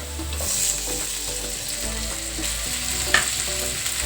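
Chopped tomatoes fry with golden-browned onions in a pan for a green pea curry, a steady sizzle broken by scraping stirs and a sharp clank near the end, with no voices.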